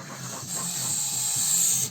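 A goose gives a steady, breathy hiss close by in a poultry coop, rising slightly in intensity over about two seconds, with faint low rustling underneath.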